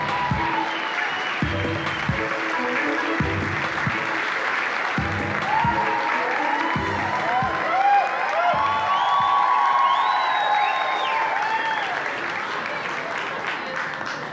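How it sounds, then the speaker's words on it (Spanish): Studio audience at a comedy show applauding a comedian, steady clapping that swells with some cheers and whoops, while a voice talks over it in bursts early on. "Fuerte el aplauso."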